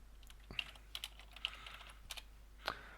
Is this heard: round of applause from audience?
no